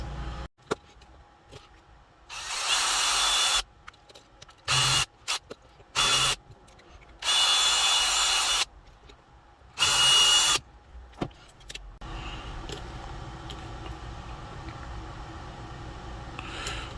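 A power drill drills out rivets on a Gaslands model build in several loud bursts of a few seconds each, separated by quiet pauses, then a low steady hiss.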